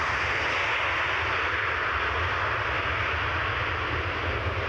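Airplane engine roaring steadily during plane spotting at an airport, a loud, continuous broad rumble with no pause throughout.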